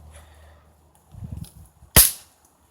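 A single gunshot fired while out hunting birds outdoors, one sharp crack after a short stretch of quiet rustling and low murmuring.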